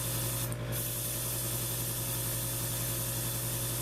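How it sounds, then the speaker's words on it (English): Airbrush spraying black primer into a cleaning pot, a steady close-up hiss with a brief change in tone near the start, over a constant low compressor hum. "That's me continuing to spray into the airbrush cleaning pot"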